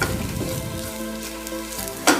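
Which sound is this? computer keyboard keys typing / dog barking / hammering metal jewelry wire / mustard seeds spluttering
mustard seeds spluttering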